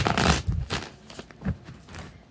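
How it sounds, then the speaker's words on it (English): A few quick bursts of cards being shuffled up close, each a brief papery riffle separated by short pauses. "Two more shuffles."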